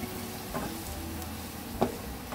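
Masala with grated coconut sautéing in a pan for a fish curry, giving a steady soft sizzle with a few faint clicks and scrapes, heard alone without talk.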